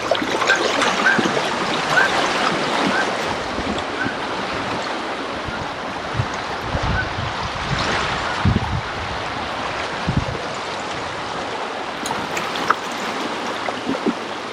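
An electric kayak motor runs at full throttle on a creek, a steady wash of churning water and hull splash with occasional knocks, heard close for a long stretch without talk.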